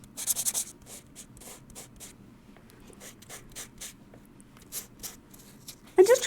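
Enamel is sanded by hand with a microfine abrasive, giving soft, quiet rhythmic rubbing strokes in short bursts, with a brief louder knock near the end.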